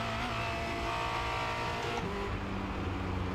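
A Formula Renault 2.0 single-seater on the Charlotte Motor Speedway Roval in a racing game, its engine droning steadily at high revs and shifting pitch as it accelerates, loud and continuous with no voices.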